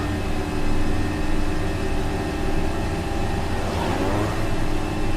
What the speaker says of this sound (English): my plane, the sound of the engine is getting higher and higher and higher